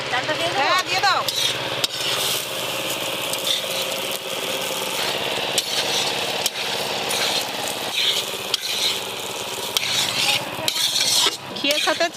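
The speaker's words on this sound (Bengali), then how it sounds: "ঘিয়ের সাথে চালটা ভালো করে ভেজে নিয়েছি" Rice frying in ghee is stirred in a pan with a spoon, giving continuous sizzling with repeated scraping and clinking of utensil against metal, close and fairly loud throughout.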